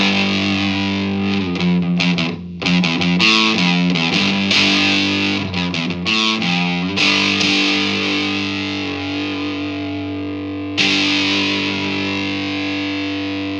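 Electric guitar through an Orange O Tone 40 amp set to high gain, loud, saturated chords and riffs with choppy bursts, then long sustained ringing notes, played alone without speech.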